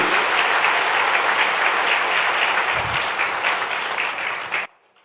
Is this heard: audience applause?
yes